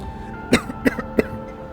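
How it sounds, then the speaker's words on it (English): Three sharp coughs in quick succession, close and fairly loud, each a short broadband burst with brief pauses between. "I got so passionate, I got a coughing fit"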